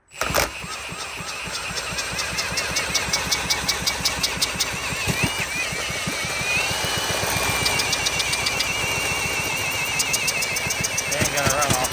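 A small vintage Briggs and Stratton gasoline engine sputters to life and runs unevenly, popping and knocking in rapid irregular bursts before settling into a rough, steady chug.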